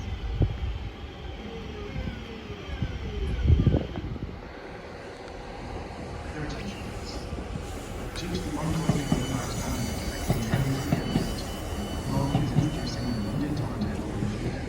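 A Class 156 diesel train rolls through Edge Hill station, a steady rumbling rail drone that swells and thickens in the second half as it passes close by, with a brief knock near the start.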